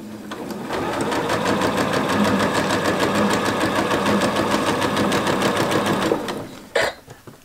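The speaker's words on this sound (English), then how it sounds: "So I'm going to put it down and sew my first seam right here." Sewing machine stitching a quilt seam, running in one steady, continuous whir for about six seconds, then stopping, followed by a short rustle of fabric.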